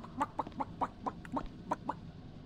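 Chicken clucking from a video game, a steady series of about eight short clucks in quick rhythm, fairly close and clear over a low background hum.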